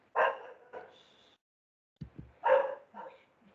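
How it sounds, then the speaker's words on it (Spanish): A dog barks in two short clusters of sharp barks separated by a pause of about a second, moderately close, with no talking over it. "empezó el perro a ladrar"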